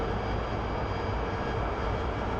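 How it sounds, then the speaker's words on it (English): An AV-8B Harrier jet engine in the DCS flight simulator spools up during air-to-air refueling, a continuous loud roar with steady broadband whine and no pauses. "The Harrier also takes forever to spool up"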